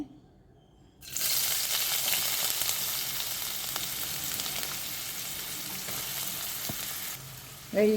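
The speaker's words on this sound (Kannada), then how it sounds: "ಎಣ್ಣೆ ಚೆನ್ನಾಗಿ ಬಿಸಿಯಾಗಿದೆ ಇವಾಗ ಈರುಳ್ಳಿ ಹಾಕಿ ನಾನು ಇವಾಗ ಒಂದು ಈರುಳ್ಳಿಯ ಒಂದು ಮುಕ್ಕಾಲು ಭಾಗದಷ್ಟು ಹಾಕ್ತಾಯಿದ್ದೀನಿ" Onion goes into hot oil for a kalthappa breakfast, setting off a sudden, loud, close sizzle that hisses steadily for several seconds with faint stirring ticks before fading near the end. No one speaks.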